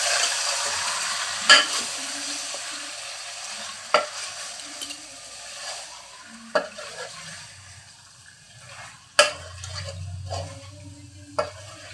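Marinated chicken sizzles and fries in hot oil in a pan, with several sharp clanks of a utensil stirring and scraping at irregular intervals.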